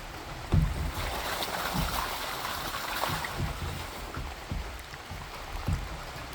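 Water gushes from a 3/4 inch hose fed by an IBC tote, a steady rushing splash close by with a few soft knocks and thumps.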